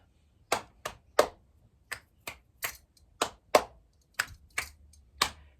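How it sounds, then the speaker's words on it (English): Sharp claps and finger snaps during a stretching routine ring out one at a time in an uneven rhythm, about a dozen in all, close and clear against a quiet room. "Checking in with my clap snaps"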